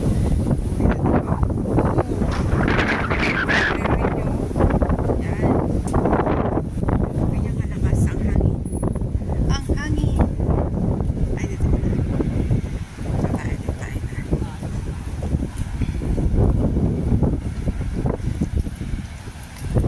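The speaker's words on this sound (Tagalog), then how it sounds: "malakas-lakas pa rin ang hangin" Strong typhoon wind roars and buffets the microphone continuously while a person talks over the gusts in Filipino, with rough, fluctuating rushing throughout.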